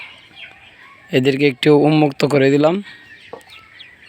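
Tiger-breed chickens, part of a flock of about 38 just let out of their coop, give a close burst of loud, rhythmic clucking for a couple of seconds while someone talks quietly nearby.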